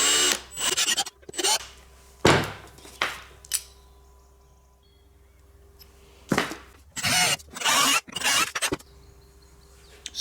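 Small holes drilled out to 4 mm in metal for M5 bolts on a miniature wire spot welder build, heard as short, close bursts of a power drill with quiet gaps and a faint hum between them.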